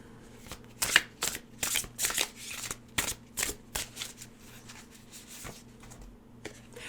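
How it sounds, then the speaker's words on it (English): Tarot cards being shuffled by hand in a quiet room, a run of crisp riffling bursts in an uneven rhythm, close and fairly loud, with no talking. "I'm going to pull more cards before I say anything more about that."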